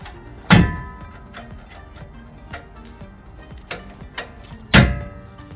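A Jeep aftermarket tire carrier with built-in reverse lights swings shut and latches, giving a few sharp, close metallic thunks and clicks spaced apart, with quieter mechanical ticks between them.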